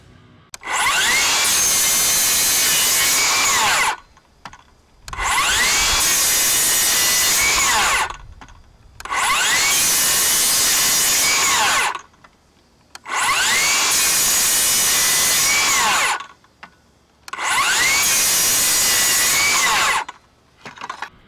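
A Milwaukee cordless rear handle circular saw on a 12.0 battery slices through 1/8 inch metal in five loud, harsh, screaming cuts of about three seconds each, separated by brief quiet gaps.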